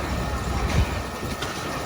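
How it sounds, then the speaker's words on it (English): A Wild Mouse roller coaster train running along its track at an amusement park at night, a rumbling rattle with a brief louder thump partway through, moderately close. "The back of that train."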